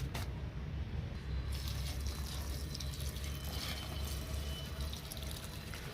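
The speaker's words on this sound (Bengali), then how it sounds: "প্রথম দিনটা আমি একটু বেশি করে জল দেব যাতে পুরো মাটিটা ভিজে যায়" Water pouring generously onto freshly planted bottle gourd seedling soil in a sack grow bag on a rooftop garden, a steady continuous splashing and trickling close by, with no talking.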